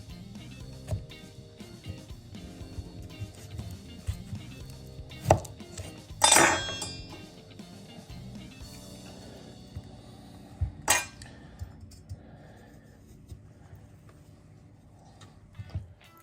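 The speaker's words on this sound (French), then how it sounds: "On coupe les 2 avocats en 2 et on va les débarrasser de leur noyau." Knife work on avocados, halved and pitted, heard as light clinks and taps of a blade and stone against a board and plate, with one sharper metallic clatter partway through, alone without talk.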